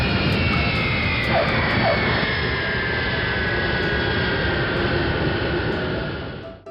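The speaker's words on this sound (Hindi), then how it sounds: "अपने क्ले फ्लाइट में उड़ते हुए पेट्रोल बंक को गया" A cartoon clay aircraft flies on its way to a petrol pump, a loud, steady jet-like engine roar that holds nearly seven seconds before fading away at the end.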